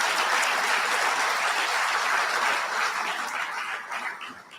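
An audience at an awards dinner applauds, a full, dense burst of clapping that holds steady and then thins toward the end.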